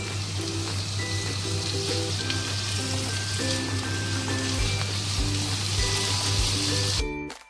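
Boiled chickpeas sauté in oil with green chilies for chana masala, a dense, close sizzle running continuously before cutting off abruptly near the end, with a faint steady hum underneath.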